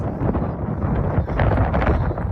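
Strong seaside wind buffets the microphone continuously, a loud rough roar with gusty surges throughout.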